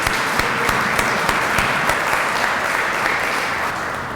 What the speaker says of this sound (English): So maybe this is just a round of applause for the first products that are coming off our assembly line.